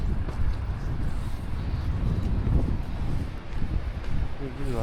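Gusty moorland wind near Back Tor and Derwent Reservoir on a hike, roaring steadily and thumping against the microphone throughout, with someone speaking under the noise.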